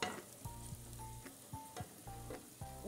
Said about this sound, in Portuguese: Coloquei a linguiça, meus amores.